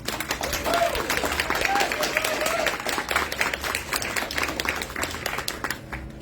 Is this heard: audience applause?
yes